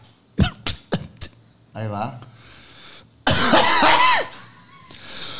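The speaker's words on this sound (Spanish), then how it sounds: "Va a tener que toser yo también." A few sharp coughs in quick succession, then someone talking, followed by a loud burst of raspy, throaty noise under speech.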